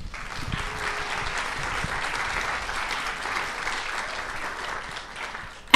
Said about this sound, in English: let's give them a round of applause to make them feel good.